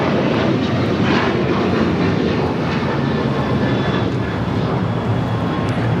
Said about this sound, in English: This is American Airlines 1006 taking off to Chicago O'Hare on the 737-800